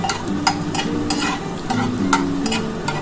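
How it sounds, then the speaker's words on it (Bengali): Garlic tempering in hot oil for a katla fish dish, with a loud continuous sizzle and quick rhythmic scraping stir strokes close up, and faint tonal music in the background. "রসুন ফোড়ন দিলাম। এটা একটু ভালো করে ভাজা ভাজা হয়ে গেলে"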